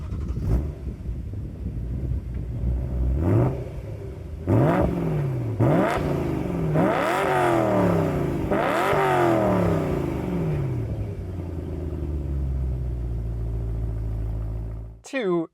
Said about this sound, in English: it's a very well designed engine and it sounds amazing